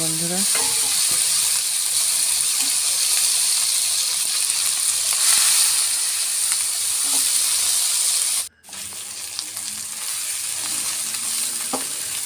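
Cumin-garlic paste, green chillies and onion fry in a pan with a loud, steady sizzle close by, briefly cut off before resuming with light stirring noises.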